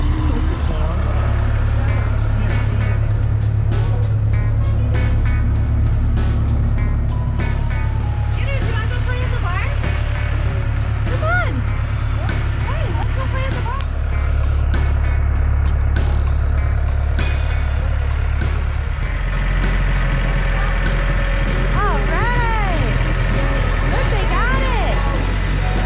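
A skid steer loader engine runs hard and steadily while the bucket curls, with a deep throbbing drone, shifting hydraulic whines and clanks, and a change in engine pitch near the end.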